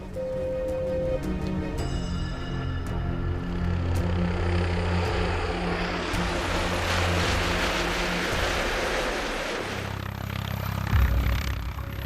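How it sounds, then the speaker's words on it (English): A helicopter drones steadily nearby for the whole stretch, a continuous engine roar with a low rhythmic rotor thrum. "moving the helicopter down the hill and closer to the team"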